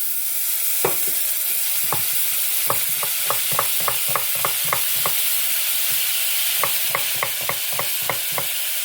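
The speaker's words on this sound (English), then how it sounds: "I stick my butter in so it melts." Butter sizzles as it melts in a pan while sweetcorn chowder is cooked, giving a steady soft crackle broken by a regular run of sharp clicks and taps from stirring or the pan, with no talking.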